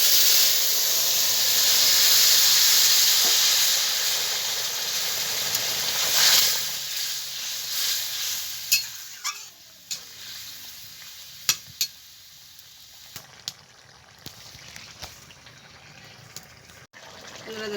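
Vegetables for a village-style silver carp and ridge gourd curry hit a hot pan and set off a loud, steady sizzle. The sizzle gradually settles, with scattered clicks and scrapes of stirring.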